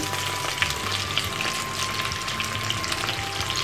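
Fish nuggets fry in hot oil with a steady, dense sizzle and crackle. The sound is continuous and close, with occasional small pops and no voices.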